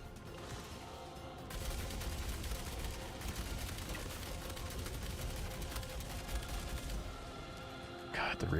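Sustained light machine gun fire in Star Citizen, a long rapid stream of shots rattling continuously for several seconds, with a brief pause, then more bursts amid background game sounds.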